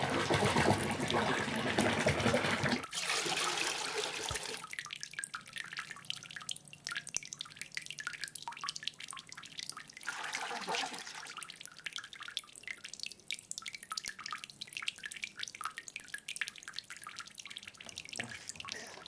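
Water runs and drips steadily while clay is processed at a pottery workshop, a rushing pour at first that gives way to continuous trickling and scattered drips, close and moderately quiet, with no talk.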